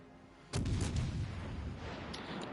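Naval artillery fires in the World of Warships video game: one deep, rumbling boom lands after a short quiet stretch, then its heavy roar lingers and fades slowly, with no talk.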